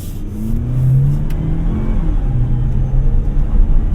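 A GAC M8 van accelerating in sport driving mode, its engine rumble swelling and holding at a low, steady pitch with a faint whir, heard from inside the cabin.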